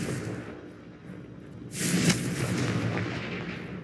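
In the video game Hogwarts Legacy, a Confringo fire spell goes off as a sudden booming blast with a whooshing rush. It rises from a low rumbling background and holds loud for a couple of seconds.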